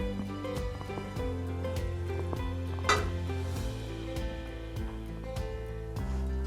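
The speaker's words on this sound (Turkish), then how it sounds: "küçük küçük doğradığımız pideleri biraz çevireceğim tavada" Bread pieces sizzle in butter in a pan while they are stirred and turned, with frequent sharp scrapes and clinks of utensil against metal.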